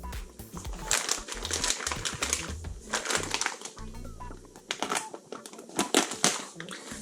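Plastic parts bags from a Tekno ET410.2 competition RC truggy kit are handled and shuffled close up, giving continuous crinkling, rustling and sharp crackling with irregular bursts and brief pauses.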